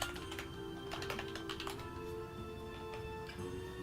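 Quick, uneven clatter of a computer keyboard being typed on, soft and close, running under a steady background hum and faint tonal noise from the computer setup.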